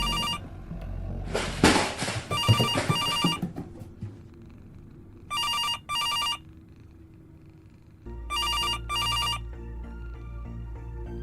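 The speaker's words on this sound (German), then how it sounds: "Wie laut ist das Telefon?" A telephone rings in the video game Pieces of Me, sounding as sharp, repeated electronic double bursts at regular intervals over game music and low background noise, preceded by a scuffle of handling sounds.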